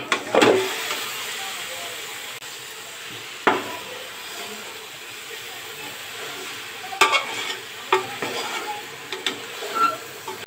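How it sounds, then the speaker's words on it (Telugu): Marinated chicken frying in a pot sizzles softly and steadily while a spoon stirs it, with a few sharp scraping clatters against the pot scattered throughout. "ఇప్పుడు ఇందులో మ్యారినేట్ చేసి పెట్టుకున్న చికెన్ వేసుకోవాలి."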